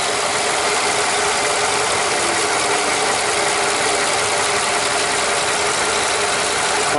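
A 2016 Nissan Rogue radiator cooling fan spins in low mode, giving a steady, loud, continuous mechanical whir with a faint ratcheting texture and no talk.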